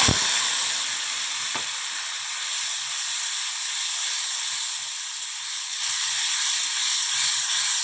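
Potato pieces frying in hot oil with five-spice seeds, a broad steady hiss and sizzle held close and loud throughout, opening with a sharp burst as the potatoes hit the oil, with no talk.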